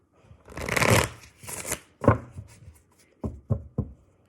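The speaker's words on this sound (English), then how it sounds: "let me just do one more shuffle" Tarot cards being shuffled close by: a long riffling burst, then several shorter flicks and taps as the deck is squared, with no voices.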